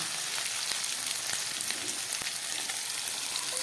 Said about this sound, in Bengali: তারপরে দিয়ে দিচ্ছি আদা কুচনো, দিয়ে দিচ্ছি 2 কাঁচা লঙ্কা